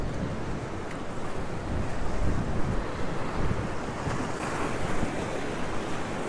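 Ocean surf at Currumbin Beach, Queensland, breaking waves and whitewash forming a steady broad roar, with wind buffeting the microphone throughout.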